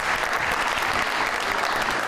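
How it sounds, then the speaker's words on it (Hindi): Sustained studio audience applause on a Pakistani talk show, a dense, steady wash of clapping that stays loud and even throughout with no break. "आपके लिए बहुत सारी तालियां जी"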